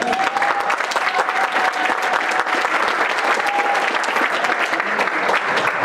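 An audience at a family night talent show gives sustained, dense applause for performers. The clapping is steady and fairly close for several seconds, with a faint whistle or voice rising above it.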